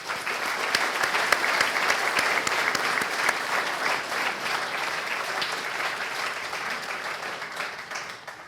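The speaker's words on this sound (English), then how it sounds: "Please give a round of applause for our panel today." A round of applause for a panel at a leadership event on moving from military service to the private sector: dense, sustained clapping from a seated audience, loud and steady for several seconds before slowly thinning.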